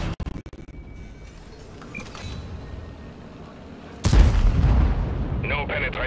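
A tank cannon fires in World of Tanks, landing as a sudden loud boom late in the clip after a stretch of quieter game ambience and faint clicks.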